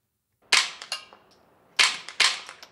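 Suppressed rimfire shots through a GEMTECH Outback 2 silencer: four sharp, fairly loud reports in two close pairs, each a crisp crack with a short tail, separated by quiet gaps.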